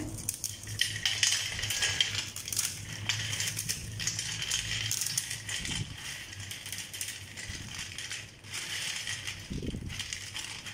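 Crispy pepper kara sev, a fried gram-flour snack, is broken apart by hand: continuous dry crackling and crunching with scattered sharper snaps, fairly close and steady throughout.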